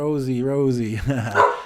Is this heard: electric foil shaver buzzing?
no